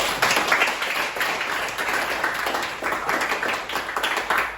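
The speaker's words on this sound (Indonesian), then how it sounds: "Tepuk tangan untuk kita semua." A classroom of students clapping their hands together in a busy, uneven burst of rapid claps lasting a few seconds.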